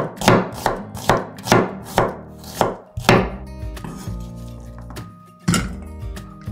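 A knife slices a Bombay onion thinly on a board: a quick run of about eight loud, close, evenly spaced chops, a pause, then one last chop, with no talking.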